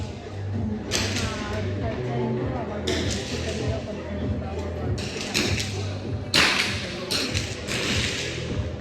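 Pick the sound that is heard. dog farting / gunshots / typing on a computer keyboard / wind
gunshots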